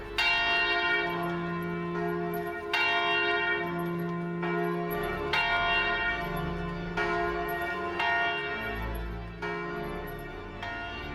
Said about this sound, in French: Les cloches de Saint-Rémy, de l'autre côté de la ville, battent le plus fervent des carillons.